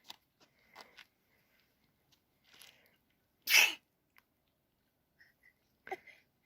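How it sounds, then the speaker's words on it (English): A single sharp sneeze bursts out at close range from a person on a hike in the Hoh Rainforest in Olympic National Park, set among faint scattered rustles and small sounds. "Did you sneeze?"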